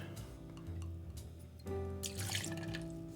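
Two ounces of sherry poured for a cocktail make a quiet, close liquid trickle and splash that shifts pitch as it fills, with no speech.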